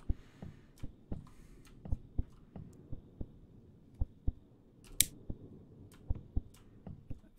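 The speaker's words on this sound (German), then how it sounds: "Ist das ein Herzklopfen darstellen?" Heartbeat sound effect in the horror video game Home From Work 2: low, regular thumping beats in pairs over a faint hum, with a few sharper clicks and no voices.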